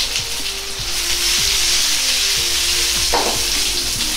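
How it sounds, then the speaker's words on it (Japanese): Eggplant pieces sizzle in hot, lightly smoking oil in a pan, a loud continuous crackling hiss with occasional clinks and scrapes as the pan is handled. "油から少し煙が出てきたらナスを入れて炒めます。"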